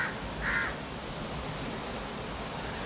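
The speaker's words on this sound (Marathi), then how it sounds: "हा कावळा इथेच आहे" A crow caws once, close and fairly loud, over a steady hiss of rain falling in Pune during the first monsoon shower.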